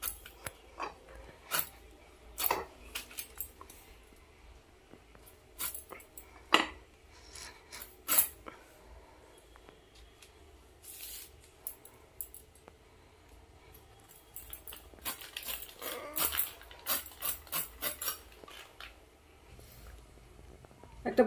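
Raw peeled jackfruit being cut into pieces with a knife, oiled hands at work, giving a series of sharp, close clicks and knife strikes in irregular bursts over a quiet background.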